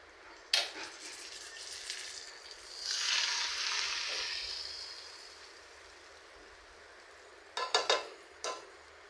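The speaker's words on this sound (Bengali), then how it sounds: "মাছটা ভাজার পর আমি পেঁয়াজ ভেজে নিচ্ছি" Onions fry in a pan after hilsa fish has been fried in it, giving a soft sizzle that swells for a couple of seconds and then fades. A few light clinks of a utensil come near the start and end.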